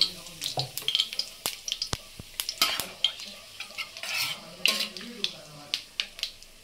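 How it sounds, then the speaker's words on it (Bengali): Two dried red chillies, three bay leaves and whole cumin frying in hot oil for chana masala with chicken, crackling and popping in quick irregular bursts with spatula stirring close by. "2 গোটা শুকনো লঙ্কা, 3টে তেজপাতা, গোটা জিরে ফোড়নে দিয়ে দিয়েছি।"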